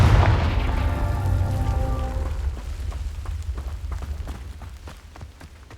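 A Confringo blasting spell in Hogwarts Legacy erupts in a loud, deep boom with a ringing tonal tail that fades over a couple of seconds, leaving a low rumbling, crackling residue.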